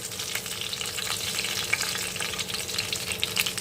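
Whole white cumin seeds sizzle steadily in hot oil as a tempering for a home-style Bengali curry, giving a close, continuous crackling fry with small pops throughout.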